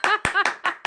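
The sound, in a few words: hand clapping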